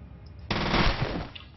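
Machine-gun fire in the video game F.E.A.R.: a sudden loud burst of rapid automatic shots starting partway in and rattling on to the end, with no talking.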